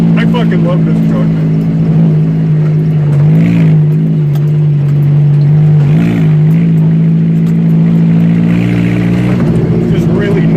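A Ford Ranger race truck's engine drones loudly and steadily up close, with rises in revs around the middle and near the end, heard from inside the cab along with voices talking.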